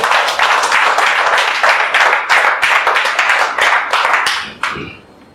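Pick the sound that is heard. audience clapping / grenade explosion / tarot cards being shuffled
audience clapping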